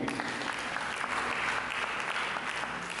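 Church congregation applauding during an Indonesian sermon, a dense, steady roar of many hands clapping at even loudness throughout, with no voices standing out.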